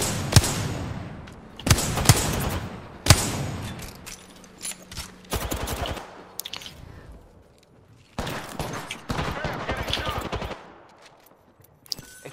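Bursts of automatic gunfire in a battle-royale video game fight, with several loud rapid volleys alternating with quieter stretches of single shots and game effects, all close and sharp.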